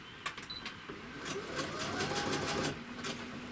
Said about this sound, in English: I'm just going to sew this button on with the press of a button.